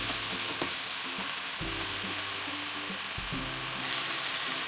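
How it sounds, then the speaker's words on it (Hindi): Aloo keema with chopped tomatoes sizzles and fries in a pan, a steady loud crackle running through with occasional scraping clinks of stirring, no voices. "टमाटर डाल के इसको बहुत अच्छे से भून लेना है।"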